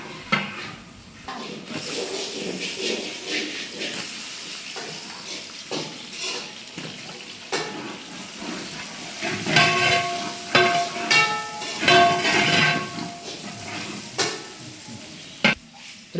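Ginger garlic paste is sautéed in a pan for Kerala kadalai curry, producing a steady sizzle with repeated stirring scrapes and metal clinks that swell louder toward the middle.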